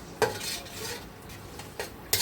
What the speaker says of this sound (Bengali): আম্মু রান্না করতেছে খাসির লেগ রোস্ট আজকে দুপুরের জন্য